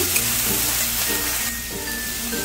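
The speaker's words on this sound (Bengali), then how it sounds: "একটু নাড়াচাড়া করে নেবো আদার কাঁচা গন্ধটা দেওয়ার পর্যন্ত।" Ginger stirred and fried in a pan with chilli for a dhoka dalna curry, giving a steady close sizzle with soft scraping strokes from the stirring and no voices.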